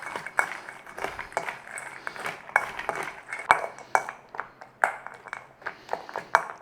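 Chickpea mixture stirred in a bowl, with a steady run of sharp utensil clinks and taps against the bowl's side, close up and fairly regular, plus faint background rustle.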